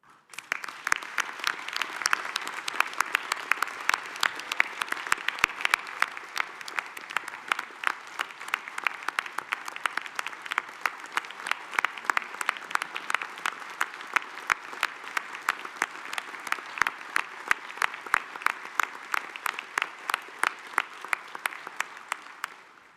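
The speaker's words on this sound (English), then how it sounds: "give a really big round of applause for the staff and everything they've done" At a soccer federation annual general meeting, a large audience applauds the staff in sustained, even clapping that lasts over twenty seconds with individual claps standing out, no voices over it.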